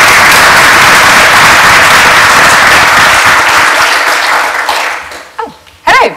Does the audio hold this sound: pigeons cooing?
no